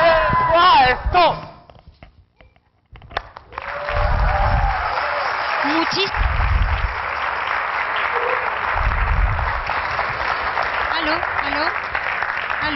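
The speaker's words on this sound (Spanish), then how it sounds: "Un fuerte aplauso a los" A voice speaks briefly in Spanish, then after a short pause a crowd at a music festival breaks into loud, sustained applause for children that continues to the end.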